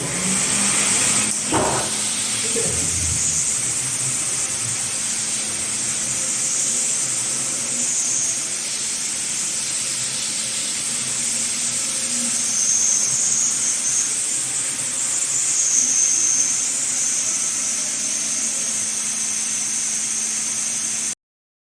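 A FRECCIA 30D45 BC floor scrubber dryer's brush motor and suction run steadily, a continuous hissing whir with a low hum, close and unchanging, with a brief knock near the start.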